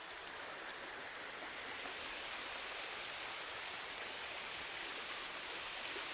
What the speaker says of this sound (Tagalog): Hindi po ba napakaganda ng sapa na yan? Napakalinis.